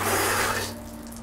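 Tap water gushes steadily into a sink as a broad, close hiss that drops to a softer, thinner flow about halfway through, with a low hum beneath and no voices.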